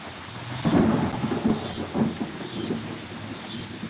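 A severe thunderstorm in Pittsburg, Kansas, with a deep rolling rumble of thunder that swells and fades over steady rain pattering on surfaces nearby.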